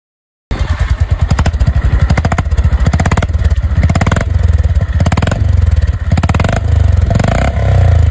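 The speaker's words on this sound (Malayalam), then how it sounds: "അതേപോലെ എക്സോസ്റ്റ് സൗണ്ടും എനിക്ക് ഇഷ്ടപ്പെട്ടത് ഹോണ്ടയുടേത് തന്നെയാണ്." A Honda CB 350 motorcycle runs close and loud, its engine and exhaust giving a steady, rapid thumping beat with no pauses and no talking.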